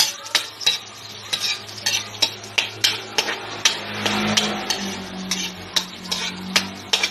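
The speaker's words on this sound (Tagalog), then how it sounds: "Then, haluin natin." Chicken adobo with pineapple tidbits stirred in a pan, a spoon scraping and clacking in a quick, uneven rhythm over a soft sizzle.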